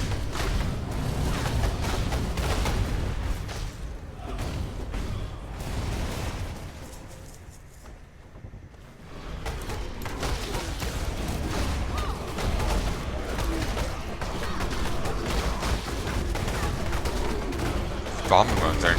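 Bombing-run explosions in the video game Path of Exile: Betrayal make a dense, continuous barrage of blasts and crackling impacts that barely lets up, with a brief lull midway.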